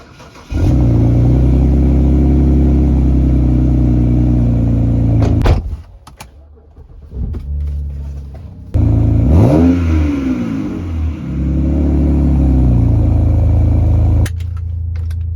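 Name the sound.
2008 BMW 328i exhaust revving, muffler with cherry bomb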